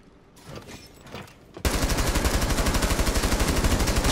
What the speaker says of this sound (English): He throw a flashbang at me